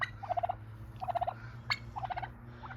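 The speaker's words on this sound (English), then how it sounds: "I think one of the turkeys might be coming through" Turkeys gobble in rapid, warbling bursts, four clear calls spaced about a second apart, loud and close with a low steady hum underneath.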